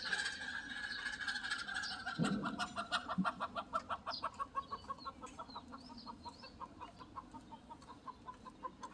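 A broody hen clucks in a steady run of repeated calls that slow and fade, opening with a louder squawk near the start, with no voices.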